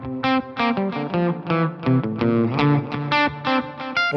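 Electric guitar played through a reverb pedal set as a short delay, a run of ringing, slightly distorted notes with a quick echo trailing each one, steady and close.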